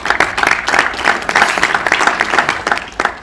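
A conference audience at Yale breaks into steady, dense applause, many hands clapping together loudly and evenly throughout, with no voices on top.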